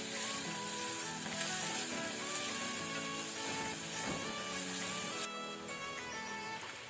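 Crushed garlic and curry leaves fry in a pan for a chicken pepper soup, giving a steady, close sizzle that holds for several seconds with faint tonal sounds underneath.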